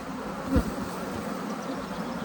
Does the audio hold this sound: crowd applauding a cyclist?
no